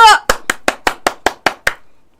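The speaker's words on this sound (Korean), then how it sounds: "박수!" Crowd at a rally outside the Korean National Assembly claps in unison after the impeachment vote fails, nine loud, evenly spaced synchronized claps following a brief shout, then silence.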